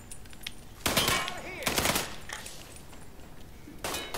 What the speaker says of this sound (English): Is he still shooting at me?